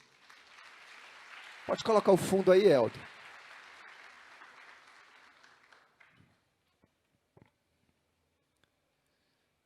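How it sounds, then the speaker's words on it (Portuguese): A church congregation applauds during a sermon, steady clapping filling the first six seconds before fading out, while someone speaks briefly over it. "Em nome de Jesus, vamos aplaudir o Senhor?"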